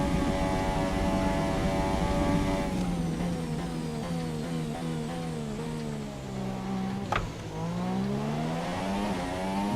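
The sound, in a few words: F1 car engine noise in video game F1 2017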